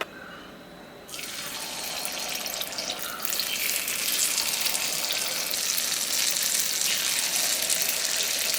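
Batter poured into a hot appam pan greased with coconut oil bursts into a loud sizzle, starting from quiet and swelling in stages into a sustained close frying hiss.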